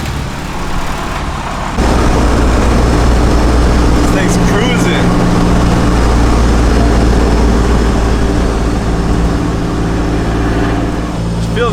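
A BMW E36 street-legal drift car with a new exhaust cruises and works up through its gears. The engine and exhaust drone is loud and continuous, rising sharply after a quieter start, with a faint voice in the background.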